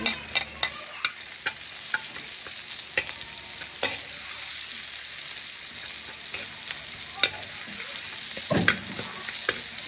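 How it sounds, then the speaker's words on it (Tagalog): Hot leftover oil from frying okra sizzling steadily in a pan as sautéing begins, with sharp clicks and scrapes of stirring scattered across the steady close hiss, no voices. "dito na tayo mag-gigisa sa ating pinagprituhan"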